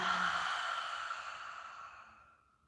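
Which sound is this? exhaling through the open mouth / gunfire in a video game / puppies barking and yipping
exhaling through the open mouth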